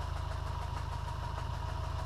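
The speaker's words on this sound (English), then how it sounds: "oh no, it's definitely knocking on the crank." A 2001 Subaru Forester's EJ25 engine idles with a rapid, even rhythmic knock from the crankshaft, a close, steady pulsing throb that runs through the whole stretch without talking.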